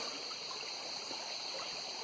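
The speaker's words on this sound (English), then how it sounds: "I'm going to cross the river at the shallow part" Shallow river water burbling and trickling steadily around a wader crossing the ankle-deep stretch, a continuous close stream wash with no voices.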